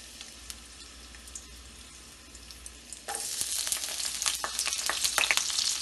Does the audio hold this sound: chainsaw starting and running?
no